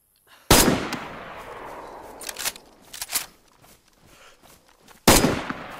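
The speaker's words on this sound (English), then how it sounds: "Are you shooting shotgun?" Shotgun blasts in DayZ: a loud close report, a few fainter shots in between, then another loud blast near the end, with quiet gaps around them.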